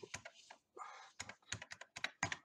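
Keystrokes on a computer keyboard as a chat message is typed, a quick run of clicking taps near the mic with short pauses and a brief smoother stretch of key presses midway, no talking.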